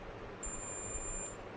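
A continuity tester beeps in one steady high tone for about a second while probing the primary coil of a mosquito killer's step-up transformer, heard close and alone over a quiet room.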